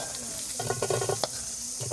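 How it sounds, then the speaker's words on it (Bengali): Garlic cloves fry in a pan until reddish-golden, with a constant close sizzle and a few clattering stirs over it. "লাল লাল করতেছে রসুন গুলা"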